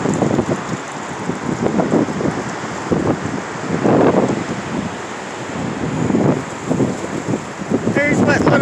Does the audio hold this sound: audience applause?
no